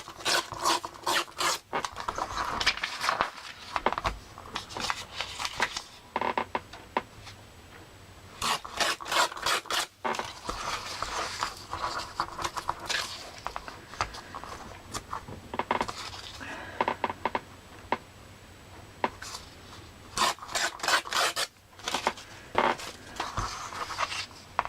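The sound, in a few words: ripping paper pages for a junk journal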